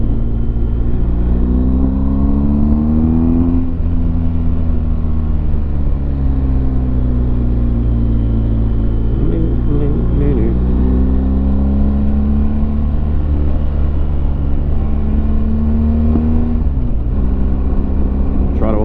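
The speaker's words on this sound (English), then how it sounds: "Third gear, please, sir." A BMW R 1250 GS motorcycle accelerates through the gears with a steady, loud engine drone whose pitch rises and drops at each shift, heard close up under wind noise.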